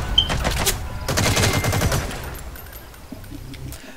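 Bursts of automatic gunfire in Metal Gear, a rapid clattering volley in the first couple of seconds that fades into quieter game sounds.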